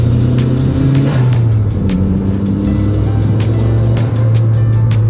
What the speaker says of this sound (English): You can hear the turbo a lot more.